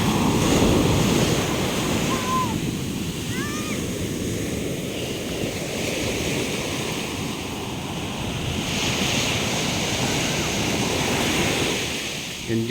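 Surf rolls steadily onto the beach at Baluti Island in the Philippines, a continuous loud wash of breaking waves with wind buffeting the microphone throughout and no voices.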